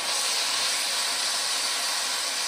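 Wild enoki mushrooms stir-frying in butter with pepper and salt, a loud, continuous broadband sizzle with no pauses and no talking.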